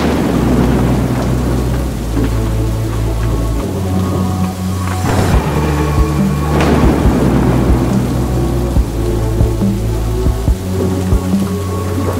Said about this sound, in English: Probably about 11 o'clock at night, we've just had this bit of a storm turn up.